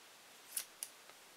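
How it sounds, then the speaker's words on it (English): Scissors snip a yarn tail while finishing a double-brim beanie made on a Sentro knitting machine: two crisp, close, quiet snips about a quarter second apart, with a faint third click after, in an otherwise still room. "I know that was a weird way to hold scissors."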